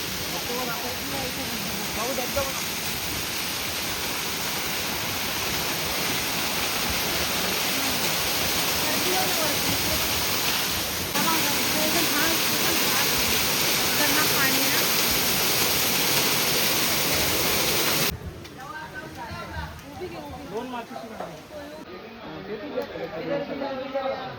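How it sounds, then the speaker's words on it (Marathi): Ekvira temple waterfall gives a steady, loud rushing roar, with a crowd's chatter mixed in throughout. The sound drops to a quieter, rougher wash in the last few seconds. "धबधबा बघा, धबधबा"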